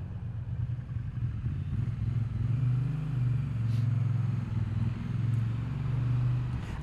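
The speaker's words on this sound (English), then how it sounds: "You can hear the engine kind of chug, chug, chug, chug, chug as you go around the corner." A 2022 Triumph Bonneville T100 engine chugs at low speed while rounding a corner in city riding, a steady deep throb that swells and eases, recorded onboard with no talking.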